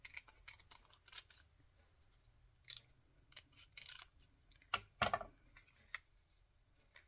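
Scissors snip out a paper poinsettia in irregular crisp clicks and crunching cuts, close and fairly quiet, with one louder snap midway and no voices.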